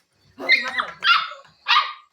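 A dog gives a few sharp barks in quick succession, loud and close, with short pauses between them and no other sound around.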